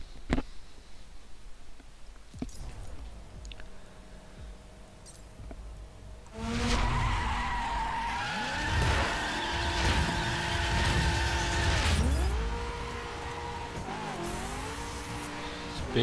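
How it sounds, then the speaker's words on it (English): BMW M5 in The Crew racing game spinning its wheels through the lower gears, the engine revving hard with long tire squeal and skidding after a quieter opening, the pitch rising and dipping as it accelerates. "So it spins wheels in the first three gears."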